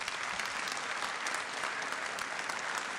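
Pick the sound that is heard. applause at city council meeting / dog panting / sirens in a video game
applause at city council meeting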